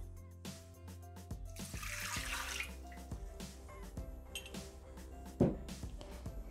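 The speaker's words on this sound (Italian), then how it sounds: "Iniziamo la ricetta mettendo all'interno del boccale l'acqua" Water is poured into a Thermomix mixing bowl, a steady splashing stream that swells briefly, then thins to trickles and light clinks, quiet and close.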